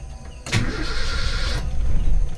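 A Toyota Kijang engine with a carburettor cranks briefly and then catches, settling into a rough idle that swells at the end, heard close and without any talk.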